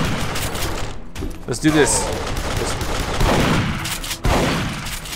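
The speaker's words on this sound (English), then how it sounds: "Oh, he's shooting at me." Enemy gunfire in Duke Nukem Forever, set in a ghost town, comes as rapid, dense bursts of shots and booms layered over a loud game soundscape, while someone talks briefly over the shooting.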